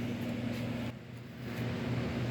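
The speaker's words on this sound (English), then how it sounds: "Oh no, that's a backhoe going by." A backhoe drives by outdoors, a steady low engine rumble with a droning hum that dips briefly midway and then swells again, with no one speaking.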